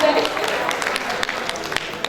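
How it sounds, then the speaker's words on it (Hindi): Applause from an audience at a silver anniversary celebration, a thin, brisk patter of scattered claps heard at moderate distance with a steady crowd murmur underneath. "जोरदार तालियां हो जाए।"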